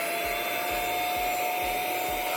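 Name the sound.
budget handheld vacuum cleaner running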